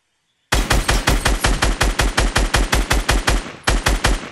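Rapid automatic gunfire in the Fortnite video game, a close, loud burst of about seventeen evenly spaced shots after a moment of silence.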